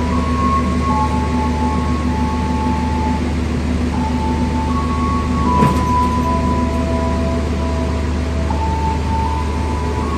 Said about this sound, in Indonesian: Berangkat lagi kereta api Progo dari stasiun Wates.